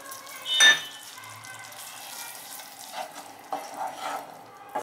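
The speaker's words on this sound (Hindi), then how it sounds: "टमाटो प्यूरी अच्छी तरह से मिक्स करेंगे" Tomato puree mixture is stirred in a pan over low heat, with a soft, steady sizzle, a sharp clink of a utensil near the start and a few scraping stirs later, all quiet and close.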